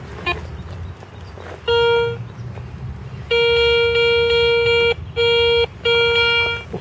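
A handheld metal detector sounds clear electronic tones outdoors during treasure hunting: a short beep, then a long steady tone and two shorter ones, all loud and close over a quiet background.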